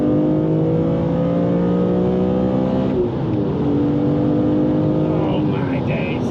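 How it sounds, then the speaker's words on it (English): A car engine pulls hard at full throttle through the gears, a loud sustained roar with rising pitch, a brief dip at a gear change, then climbing again under continuous cabin chatter. "Drop it down into third there. Go on. Go up through the rest. Full throttle."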